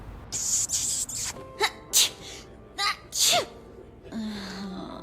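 A series of sharp, breathy sneezes, several in quick succession, loud and close, followed by a short squeaky vocal sound.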